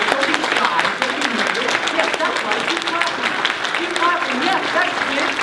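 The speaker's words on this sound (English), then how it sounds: "If you believe in Tink, clap your hands." During a Peter Pan stage show, an audience claps hands to revive Tinker Bell, a steady mass of clapping lasting several seconds with some crowd voices mixed in.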